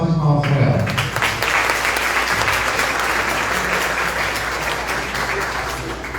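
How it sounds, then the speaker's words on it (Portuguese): An audience at a launch event breaks into dense, sustained applause for a speaker on nutrition, loud and steady, with a brief bit of talk at the start. "Uma salva de palmas para ela."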